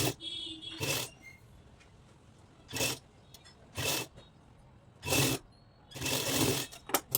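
Blouse front fabric is stitched on a sewing machine in several short separate bursts of whirring, each lasting about half a second to a second, with quiet gaps between them, heard up close.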